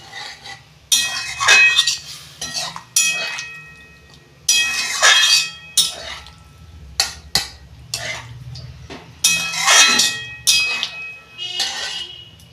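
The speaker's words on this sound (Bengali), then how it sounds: "এই যে আমি কাবলি ছোলাটা দিয়ে দিচ্ছি।" Kabuli chickpeas tipped into a cooking pan of fried spices for chana masala, with bright clinks and clatter of utensil against metal in several bursts, plus scraping and stirring between them, no talking.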